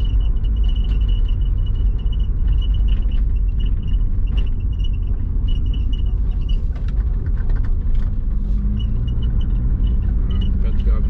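A compound-turbocharged Subaru engine rumbles loudly and constantly as the car accelerates under boost, with road noise layered over the low drone.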